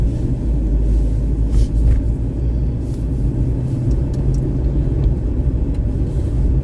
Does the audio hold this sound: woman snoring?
no